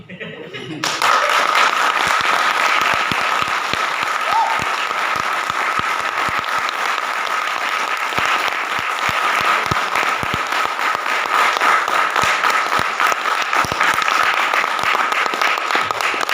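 Sustained applause from a large audience at a My Lifestyle business meeting in India, dense steady clapping that starts abruptly and holds loud and even for about fifteen seconds with no break.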